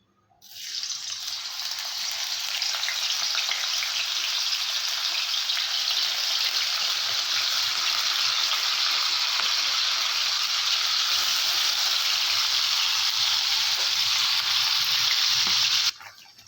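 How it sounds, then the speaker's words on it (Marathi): Paneer pieces fry in hot oil, a steady loud hissing sizzle that starts abruptly and holds evenly for about fifteen seconds before cutting off, close by with no talk. "तेल गरम झालेलं आहे आपण पनीरचे तुकडे यामध्ये फ्राय करून घेणार आहोत"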